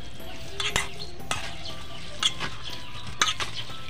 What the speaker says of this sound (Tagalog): Haluin na natin mga kabisaya hanggang mahalo natin lahat.